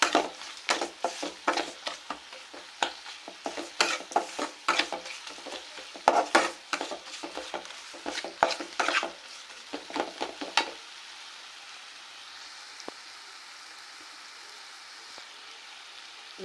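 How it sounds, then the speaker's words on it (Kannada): Chili powder and turmeric fry in oil for an okra stir-fry, with rapid, irregular spoon scrapes and clanks against the pan for about ten seconds, then only a faint low sizzle remains. "ಈಗ ಖಾರ, ಅರಿಶಿನ ಎಲ್ಲನೂ ಎಣ್ಣೆಯಲ್ಲಿ ಚೆನ್ನಾಗಿ ಫ್ರೈ ಆಗಿದೆ"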